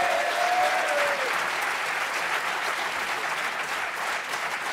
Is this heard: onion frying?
no